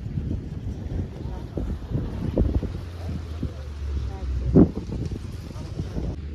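Blustery wind buffets the microphone beside a rough sea at the Digha Mohona fishing harbour at sunset, a low rumbling roar with gusts, while a person talks nearby over it.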